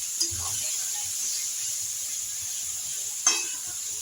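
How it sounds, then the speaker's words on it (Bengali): Chopped tomatoes and onions fry lightly together in a pan, giving a soft, steady, hissing sizzle. It is broken by two brief clinks, one near the start and one just past three seconds. "টমেটো 2টো টমেটো কুচিয়ে দিয়েছি, এগুলো হালকা করে ভেজে নেব পেঁয়াজের সাথে"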